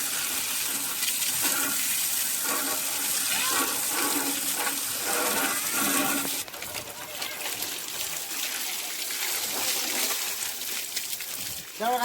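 Water hissing and splashing steadily as a vehicle covered in thick mud after heavy rain is washed, a constant loud spray that shifts in tone partway through, with people talking over it.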